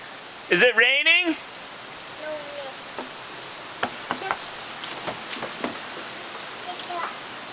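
Soft patter of rain with scattered drips tapping a surface, following a brief voice at the start; steady and fairly quiet throughout.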